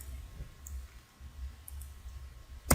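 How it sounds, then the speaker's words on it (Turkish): A computer mouse double-clicks once, a short, sharp click right at the end after near silence with a low hum. "Formumu açalım çift tıklayıp."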